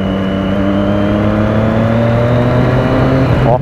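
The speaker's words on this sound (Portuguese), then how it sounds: "Olha como é gostoso acelerar." A motorcycle engine revs up close by, its steady harmonic drone rising slightly in pitch as it accelerates before a brief sharper sweep at the end.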